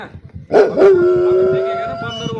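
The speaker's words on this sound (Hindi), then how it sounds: "इसको देख के ना हर किसी कुत्ते की हालत खराब हो जाएगी, वो रोने लग चुका है।" A dog howls in a cold mountain village, a loud, close, long wavering cry that rises after a couple of short yelps and holds steady for about two seconds.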